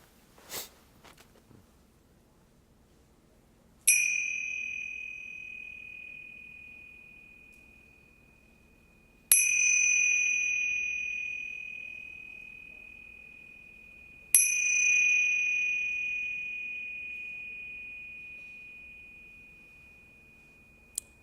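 Three meditation chime strikes ring out alone in a quiet room during a mindfulness practice, each a clear bright tone that hangs and slowly decays for several seconds before the next.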